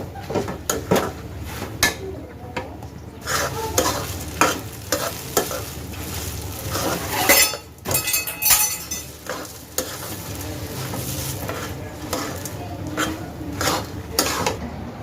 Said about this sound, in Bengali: একটু করে দিয়ে একটু একটু করে নাড়তে হবে